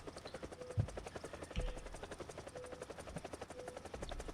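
A British military helicopter in a video game thrums with a rapid rotor chop and whining drone, steady and fairly close, with a couple of dull thumps, no speech over it.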